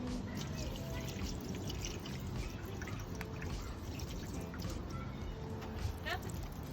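Water is poured over the cowl of a 1967 Mustang, which is leaking. A steady splashing pour runs for several seconds with faint dripping, and a voice talks quietly under it.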